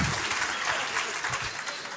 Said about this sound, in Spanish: les dan un aplauso a mis actores aquí